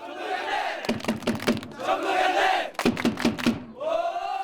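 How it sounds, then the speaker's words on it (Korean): Jeonbuk Hyundai Dinos supporters in the stands of Mokdong Stadium in Seoul shouting a cheer for their football team together, rhythmic group chants punctuated by sharp clap-like beats, loud and close. "경기 시작 전부터 축구장 관중석 한켠에 모여 목이 터져라 힘내라 다이노스를 외쳤습니다"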